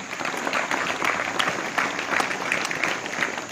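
Schoolboys applauding for their former principal at a school gathering, an even, sustained round of crowd clapping heard at moderate loudness throughout.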